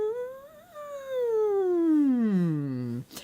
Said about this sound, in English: you're humming and you're going from your lowest to your highest point and then down again